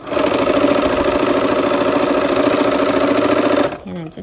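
Sewing machine stitching quilt pieces for a dinosaur star quilt in chain-piecing fashion, a loud, close, steady mechanical whirr running continuously before stopping abruptly near the end, followed by a brief voice.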